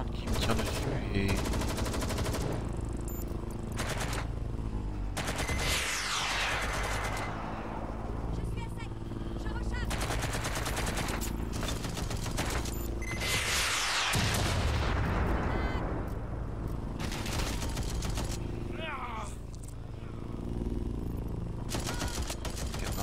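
Gunfire aimed at the player in the Watch Dogs Legion video game, with loud repeated shot bursts and blasts filling the whole stretch, while someone talks over the shooting throughout.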